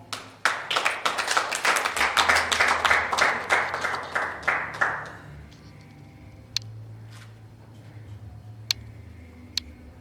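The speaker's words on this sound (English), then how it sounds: "Ladies and gentlemen, a round of applause for Ephraim Marobela." A round of applause from a conference audience, crisp individual claps building then tapering off over about five seconds, followed by a few scattered isolated claps in a quiet room.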